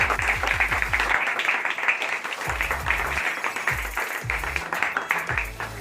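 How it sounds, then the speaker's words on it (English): A class audience claps in a steady, sustained patter at a Sunday class session, moderately loud, with a low rhythmic beat of music pulsing underneath. "Clap."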